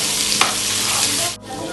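Dried red chillies and tomato frying in a hot pan as they are stirred together, a steady dense sizzle with a brief scrape of the spoon partway through, close and continuous with no voices.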